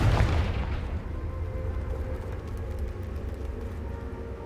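A Confringo fire spell explodes in Hogwarts Legacy, a single loud deep boom at the onset followed by a long rumbling low tail that slowly fades.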